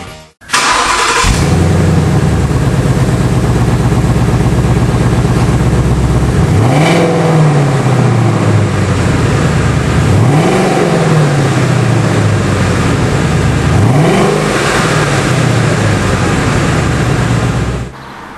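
A new Ford Mustang GT with its 5.0-litre V8 of 435 hp fires up with a loud bark, settles into a rumbling idle, then is blipped three times in evenly spaced revs that rise and fall back, close and clear.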